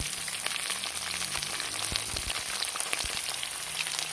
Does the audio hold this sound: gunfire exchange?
no